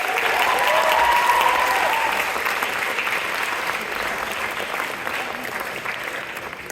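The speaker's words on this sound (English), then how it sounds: "let me hear by your applause right now if you've been able to do something new or fun this" A graduation audience at a high school commencement breaks into loud, sustained applause that gradually tapers off over several seconds.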